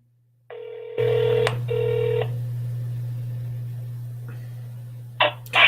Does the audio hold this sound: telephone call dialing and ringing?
yes